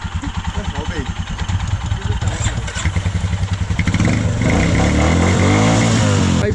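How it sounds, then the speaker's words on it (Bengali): A motorcycle in freezing cold putters unevenly as it starts, then revs into a louder steady roar, with people talking over it. "বাইকও স্টার্ট হয়ে গেছে।"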